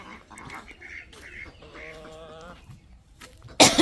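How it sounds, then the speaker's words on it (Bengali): Ducklings give a run of soft, quick peeping calls, fairly faint and close, in short bursts over a quiet background, ending with a sudden loud burst of noise. "হাঁসের বাচ্চারা সব মানে পাগলামি করতেছে চাও চাও করে পাগলামি করতেছে"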